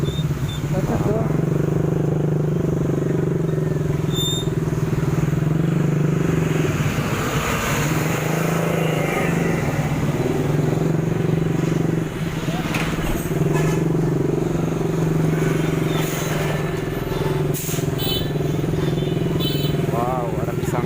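Heavy jam of motorcycles and cars around Malingping town square at ngabuburit time, with a continuous, close rumble of idling and creeping engines and occasional clatter, as people talk over the traffic.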